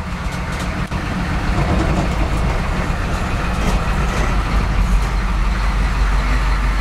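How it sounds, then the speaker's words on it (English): A rebuilt old truck, set up as an EMP-proof vehicle, pulls away starting in second gear; its engine gives a loud, steady, rumbling drone close by, with no talking over it. "I'm starting out in second gear"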